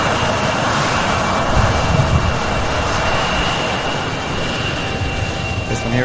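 A fixed-wing aircraft taxis toward a maintenance hangar at Louisville International Airport and UPS Worldport, its engines giving a steady, loud broadband roar that holds evenly throughout with no talk.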